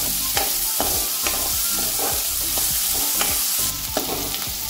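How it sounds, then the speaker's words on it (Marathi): Chopped onion and green chili sizzle in a pan, with a steady loud hiss and repeated scraping stirs roughly every half second, near and without speech. "यामध्ये हिरवी मिरची घालूया थोडी, कांद्याचा रंग बदलेपर्यंत छान तो परतून घेऊया"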